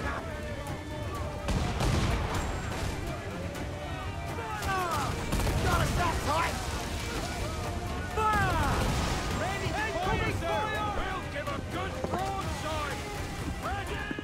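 Ship cannons firing during a naval battle in Assassin's Creed 4: repeated booming volleys over a steady roar of water and wind, loud and close, with shouting voices and whistling sweeps mixed throughout.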